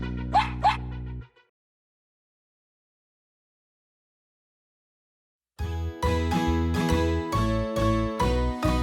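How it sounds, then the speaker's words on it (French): A dog in a children's farm song gives two short barks, then silence, before bright plucked toy-like instrumental music starts with a steady bouncing beat. "Un fermier possédait un chien qui s'appelait Bingo le chien"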